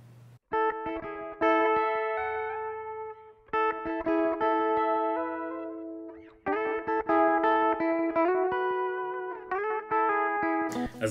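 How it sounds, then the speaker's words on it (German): Soloed electric guitar processed so its picked attacks are softened and dampened, playing sustained, tonal notes and chords in phrases with brief gaps between them, clean and close with no voices. "in Solo hört man schon definitiv raus, dass es mal eine Gitarre war"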